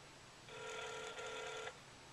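An outgoing phone call rings once, a single steady electronic telephone ring lasting just over a second, heard alone at moderate level over faint background hiss.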